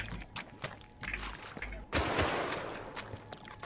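Rapid bursts of gunfire from guns in a Minecraft map, sharp repeated shots in uneven clusters, loud and close with a dense volley near the end, while voices talk now and then.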